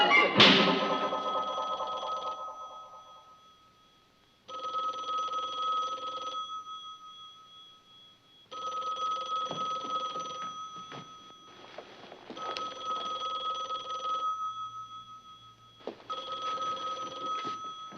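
A telephone bell rings in a TV sitcom home, a loud first ring followed by several evenly spaced rings with short quiet gaps between them.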